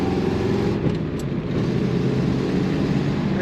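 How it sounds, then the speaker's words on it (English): A red 1968 Chevrolet Corvette convertible pulls away under acceleration, its engine a steady, full-bodied rumbling drone heard from inside the car, loud and continuous with no talking. "It accelerates as a 68 Corvette should."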